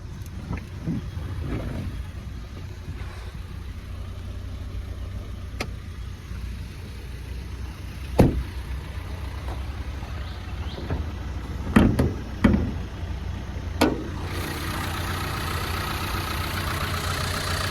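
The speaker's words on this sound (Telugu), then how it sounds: "సౌండ్ వినండి ఎంత స్మూత్ ఉందంటే అంత స్మూత్ ఉంది ఇంజన్" A 2018 Renault Duster RXS with 59,000 km runs at a steady idle, a low continuous engine hum with a few sharp clicks and knocks over it, loud and close, with no one talking.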